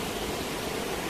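Bidadari waterfall, a small man-made weir-like cascade, rushing with a steady, broad, close hiss of falling water.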